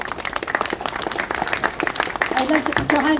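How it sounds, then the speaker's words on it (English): Crowd applause at a cost of living protest in Cork, a dense spread of clapping lasting a few seconds, with voices and cheering mixed in toward the end. "give yourselves a huge big clap"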